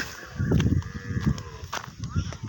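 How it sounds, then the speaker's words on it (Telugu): A buffalo gives a low, drawn-out call that rises and falls over a couple of seconds, close by, with faint voices around. "బర్రె నుంచి అరుస్తుంది"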